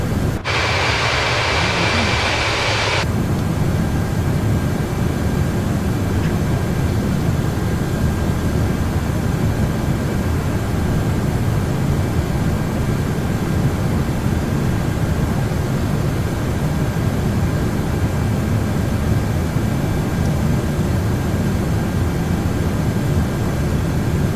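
Airbus A330-300 jet engines on climb out of Detroit in a flight simulator, a loud steady broadband roar that holds unbroken throughout, with a brief higher whine at the very start.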